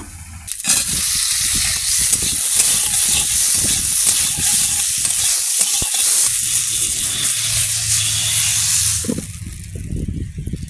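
Water poured into a hot pan while cooking silver carp head with bitter gourd gives a loud, sudden burst of hissing and sizzling that holds steady for several seconds, then cuts off abruptly, leaving a quieter low bubbling.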